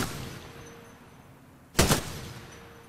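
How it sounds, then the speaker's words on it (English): A single short, sharp weapon burst in Titanfall 2 training, one loud crack with a brief tail standing out clearly against a quiet background. "Good burst fire."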